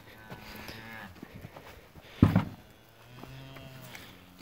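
Cattle low and moo on a farm, several drawn-out calls with one loud close moo in the middle, over a quiet background.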